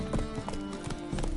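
Rhythmic clip-clop of Roach the horse galloping in The Witcher 3 video game, steady hoofbeats close and clear over a bed of ambient game music and sound.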